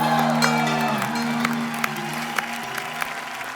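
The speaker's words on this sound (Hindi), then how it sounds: "तालियां जोरदार" Studio audience applause on a comedy talk show, a steady crowd clapping and cheering that swells and tapers over a few seconds, with a sustained musical tone beneath.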